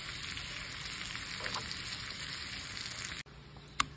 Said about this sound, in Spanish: Vamos a esperar hasta que el ajo esté bien fritito.